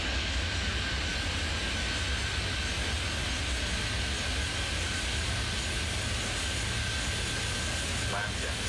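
A jet airliner takes off in the airport simulator game Airport Madness 3D, with a continuous dense engine roar holding steady throughout and a faint thin whine above it.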